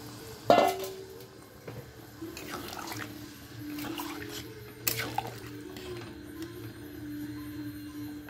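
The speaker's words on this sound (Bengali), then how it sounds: "যে জলটাতে আমি পনির ভিজিয়ে রাখছিলাম ওই জলটা দিয়ে দিলাম" Paneer soaking water is poured into a pan while paneer curry cooks, a faint splash and trickle followed by a soft bubbling hiss, with a second brief splash later in an otherwise quiet kitchen.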